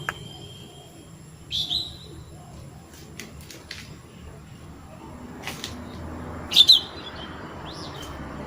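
Sweet birdsong in a small home garden on a fine day: a few brief, soft chirps rise at moments over a quiet, hushed outdoor background, with a sharper pair of tweets near the end.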